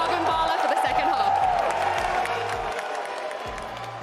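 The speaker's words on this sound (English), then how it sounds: "Make some more noise for Crew, everyone." A crowd at the VCT Champions 2023 Valorant esports event cheers and applauds for team KRÜ in a steady, dense roar that fills the arena, with a caster's amplified voice talking over it throughout.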